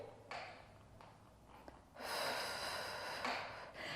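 Slow, deep breathing during a Pilates tower or springboard routine: a soft inhale, then a longer, stronger airy exhale, close and steady with no voice.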